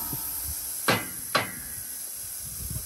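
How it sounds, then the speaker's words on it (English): A hammer strikes a chisel twice, about half a second apart, with two sharp, fairly close knocks against a quiet, hissy background. "Hammer and a chisel."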